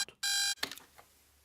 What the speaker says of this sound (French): son réveil sonnait à des intervalles de 9 minutes